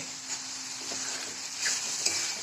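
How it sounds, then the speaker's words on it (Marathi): Chopped tomatoes and onions sizzle steadily in a hot pan while being cooked into a spicy coconut-garlic chutney, with a faint stir or scrape of the spoon now and then, and no voices. "कांदा चांगला भाजला होता ह्याच्यामध्ये टोमॅटो टाकला"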